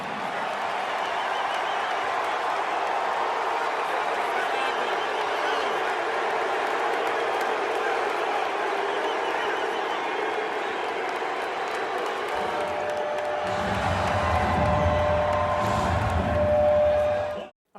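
A hometown arena crowd cheers and applauds Meek Mill's homecoming after his prison release, a steady dense roar throughout that swells louder with deeper rumble near the end.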